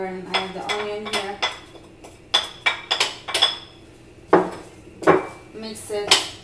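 Vegetables with spices, za'atar and black pepper, stirred in coconut oil in a pan, with repeated sharp clinks and scrapes of a utensil against the pan in uneven bursts, close and fairly loud, no voices.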